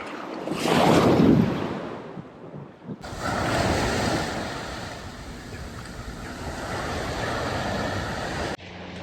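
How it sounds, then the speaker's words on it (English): Small rolling waves break gently on the beach at Watering Cove in Abel Tasman National Park, New Zealand, a steady wash of surf under light wind noise after a short rustle at the start. "It's got a couple of little rolly waves right on the beach."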